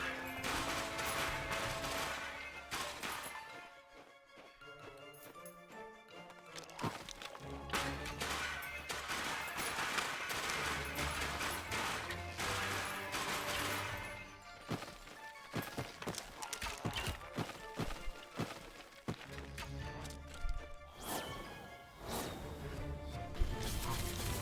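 Bow-wielding enemies fire arrows at the player in The Slormancer, with sharp impact hits, crashes and clattering combat effects in quick bursts over a busy, continuous game soundtrack.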